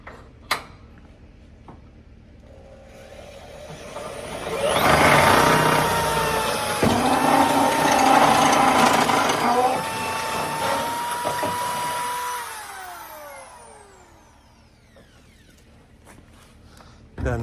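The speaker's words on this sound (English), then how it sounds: "Doesn't take long with this drill." A 1/2-inch power drill whines up and grinds steadily through thick metal for several seconds, its pitch shifting under load, then winds down; quiet handling noises before and after.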